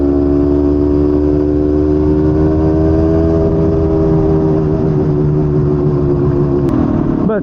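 Vintage Yamaha DT250 two-stroke motorcycle engine, unrestored with low original mileage, running loud and close with a steady droning idle whose pitch sags slightly over the seconds.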